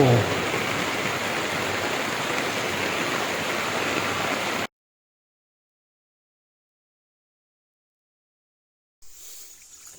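Floodwater rushes through an orchard after a major flood in Chae Hom, Lampang, a loud steady roar for several seconds, then it cuts to silence before a fainter stretch of flowing water returns near the end.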